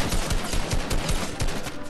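Rapid gunfire from a sniper-style firefight in the battle royale game Fortnite, dense and continuous with repeated low thumps layered over constant game noise.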